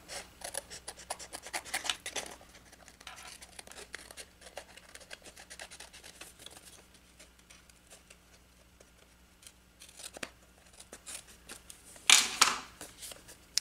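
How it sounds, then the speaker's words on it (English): Scissors cutting paper along the edge of a handmade card, a quiet run of rasping snips and scratches, busier at first, then sparse soft ticks and a sharp crinkle near the end. "And then you just go along and you cut along the edge"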